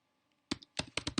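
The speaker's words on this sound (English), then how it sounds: "I'm going to search for the command prompt by typing cmd." A handful of close, crisp keystrokes on a computer keyboard come after a brief near-silent pause, several sharp taps in quick uneven succession, with no voices.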